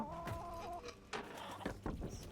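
Chicken in the video game Egging On, clucking in a few short, choppy bursts close by, with brief gaps between the calls.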